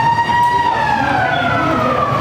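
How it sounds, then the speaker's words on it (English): A fire station alarm siren in Kampala wails loudly and continuously, its steady rising-and-falling tone close and dominant throughout. "So they press a siren from there."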